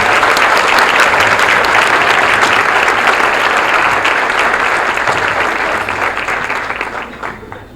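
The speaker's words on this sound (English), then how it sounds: "if we could have a nice round of applause for the Phi Theta Kappa graduates" An audience at the Jefferson College honors recognition banquet gives Phi Theta Kappa graduates a loud, sustained round of applause, dense clapping that holds steady and then tapers off near the end.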